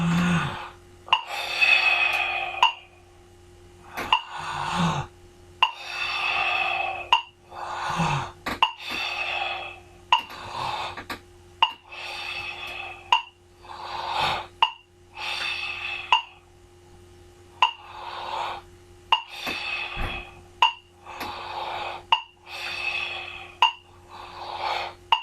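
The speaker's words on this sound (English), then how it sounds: "And again, with the Ujjayi breathing," Ujjayi breathing exercise performed at a slow metronome pace, with about a dozen close, loud, hissing breaths repeating in a regular rhythm and a faint steady tone underneath.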